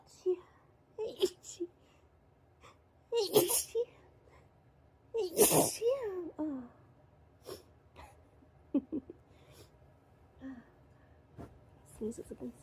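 Big, wet sneezes burst out twice, loud and close, amid moaning, itchy groans and sniffly breathing, with a voice talking quietly between them.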